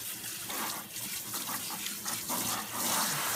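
Water runs steadily from a sink hose while a Yorkie is bathed in a big bathtub, a soft, close splashing stream with no talking.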